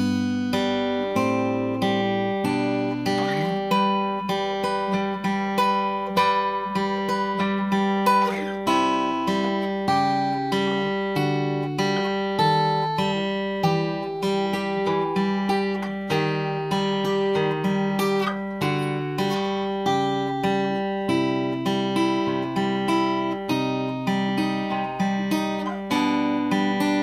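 Slow acoustic guitar fingerpicking of the verse of a song, with a steady run of ringing plucked notes and bass lines held close and even for the whole stretch, no voices.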